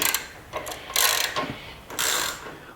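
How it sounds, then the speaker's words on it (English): A ratchet turning a 19mm socket backs out rear shock absorber bolts, making close, crisp bursts of rapid clicking separated by brief pauses as the handle swings back and forth. "I think it's a 19mm socket. Back them out."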